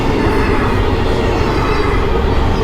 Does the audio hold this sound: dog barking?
no